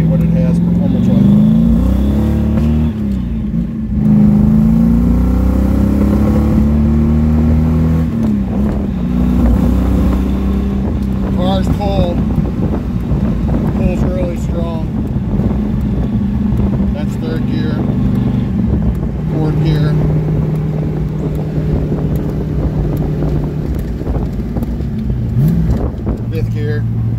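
A Ferrari Daytona replica engine drones through a cold, wet test drive, loud and continuous with rising and falling pitch as it accelerates and shifts gears, while someone talks over it at times.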